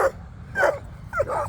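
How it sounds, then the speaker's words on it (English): Farm dogs giving a few short, close yips and barks in quick succession, sounding eager for attention, with a low rumble of machinery in the background. "You got the dogs wanting attention."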